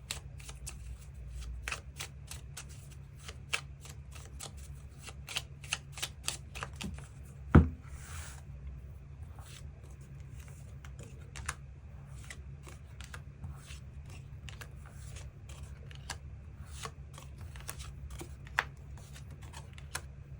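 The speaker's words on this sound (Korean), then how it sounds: "일별로 월요일부터 일요일까지 어떤 하루를 보내게 될지 추가 카드 뽑아보도록 하겠습니다" Tarot cards are shuffled and drawn in a steady run of crisp, close riffling flicks and snaps over about twenty seconds, with one sharper slap partway through and no voice.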